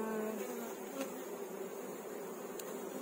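Honey bees buzz steadily around a hive frame of brood during the making of a nucleus colony, a dense, continuous close drone with a faint higher whine throughout.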